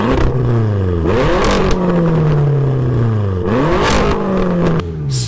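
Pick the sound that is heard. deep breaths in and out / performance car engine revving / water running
performance car engine revving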